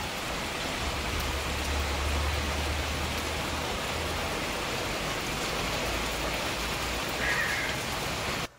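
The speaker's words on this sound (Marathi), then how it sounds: "पाऊस खूप मोठा चालू." Steady, heavy rain pours without a break, a dense wash of hiss filling the whole stretch, with no voices.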